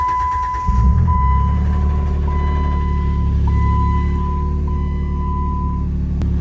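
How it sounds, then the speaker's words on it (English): A Jeep Wrangler JK that was left abandoned, idling after being started, gives off a steady warning beep tone that repeats at regular intervals over the low rumble of its engine. "It keeps beeping."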